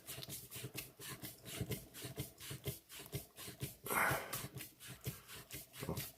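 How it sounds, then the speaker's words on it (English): An LGT Revan lightsaber's threaded handle being unscrewed, giving a close, steady run of short scraping and rubbing rasps in a rough repeating rhythm, with no talking. "So the handle unscrews."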